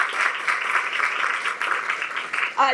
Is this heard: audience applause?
yes